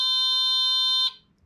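A solar-powered mole repeller ground stake gives off one long, steady, high-pitched electronic beep that cuts off abruptly, loud and clear with nothing else around it.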